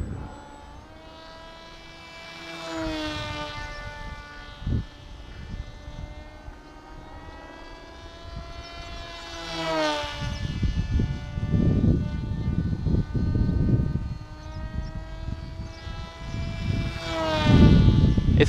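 An FT Arrow RC airplane on its maiden flight, its propeller motor whining as it repeatedly swoops past, pitch sliding up and down, with buffeting wind noise throughout.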